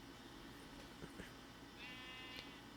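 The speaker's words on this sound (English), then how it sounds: "Excuse me, sheep." A sheep in a video game bleats faintly once or twice, a short, thin wavering call over a soft, steady background hum.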